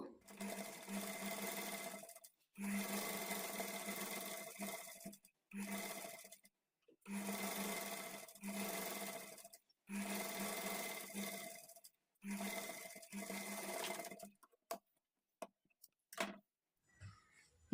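A sewing machine stitches invisible thread piping onto fabric in repeated bursts of fast, even whirring, each run a couple of seconds long and separated by short pauses, with a few brief taps at the end.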